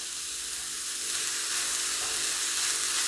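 Curry leaves hit hot oil in a pan for a Kerala cabbage and carrot thoran and crackle in a steady, close, bright sizzle with a hiss that grows slightly louder and runs throughout.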